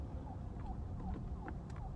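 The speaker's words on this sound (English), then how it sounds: "there's an ambulance going off" An ambulance siren wails somewhere off in the distance, its rapid rising-and-falling tone repeating faintly over a low background rumble.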